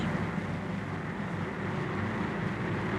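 Four 2,200 horsepower aircraft engines turning 16.5-foot Hamilton propellers drone in a steady, dense roar, constant and unbroken, with no speech over it.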